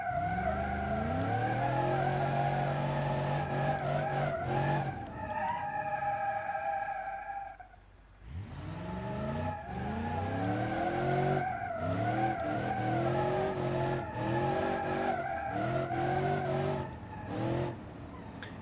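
Car drifting in BeamNG.drive, a Marshal drift build, with loud sustained engine revving and wailing tire squeal, a brief lull near the middle before the engine and skidding tires roar back and carry on to the end.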